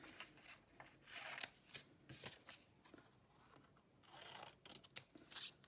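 Scissors snip through spare blue paper to cut out fins for a paper shark puppet, giving a series of crisp, close cuts in uneven bursts with no talking.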